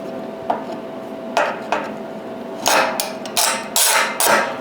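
Metal Harbor Freight clamps handled in a workshop, a series of sharp metallic clanks and knocks spaced irregularly, close and fairly loud, with no talking.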